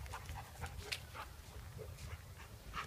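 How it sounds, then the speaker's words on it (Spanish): A dog panting in a large park, with quick, faint breaths and a few small whimpers over steady outdoor background noise. "Acá el perrito que nos acompaña."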